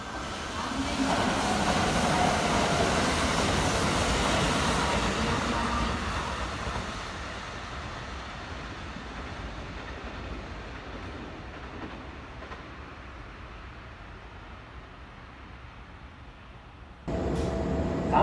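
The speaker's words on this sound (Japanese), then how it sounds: "3番乗り場に配送電車が参ります。危険ですから黄色い線まで下がりください。" A 12200 series train pulls in at a station platform with a loud, broad rumble that gradually fades as it slows. A sharper burst of noise rises at the very end.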